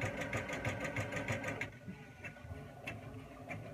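A Janome MC200e computerized embroidery machine running, with fast, even needle stitching for about a second and a half. It then stops, leaving a few faint ticks and clicks.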